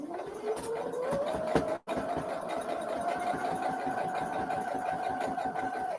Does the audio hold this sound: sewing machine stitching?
yes